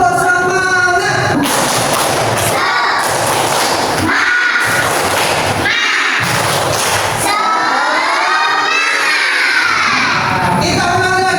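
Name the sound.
group doing the "tepuk semangat" clapping chant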